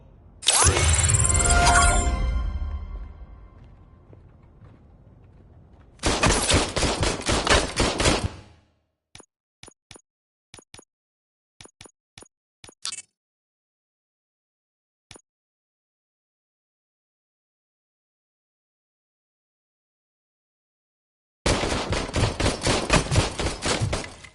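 Gunfire in the video game Robocop Rogue City: a long loud burst of automatic fire with a booming tail, then a second sustained burst, a scatter of sharp single clicks and shots, silence, and a final heavy burst.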